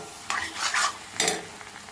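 Boiled kochu greens go into hot mustard oil in a pan, giving a couple of quick bursts of sizzle and stirring scrapes with short quiet gaps between them, close and fairly soft.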